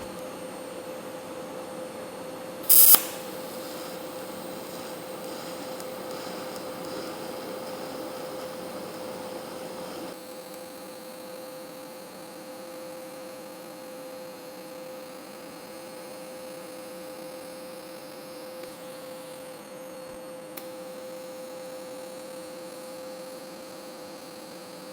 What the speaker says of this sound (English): I got it set up in my rotary weld positioner. I think I got her about where I want it. So let's go ahead and TIG this thing up